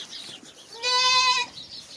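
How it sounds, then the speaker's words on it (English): A billy goat on a farm lets out a single loud, close bleat with a wavering, buzzy tone, lasting about half a second, over quiet farmyard background. "is our new Billy goat, followed by his little brother and little sister"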